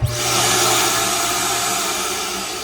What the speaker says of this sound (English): that central vac, it's gonna get real loud in here once I hit this switch on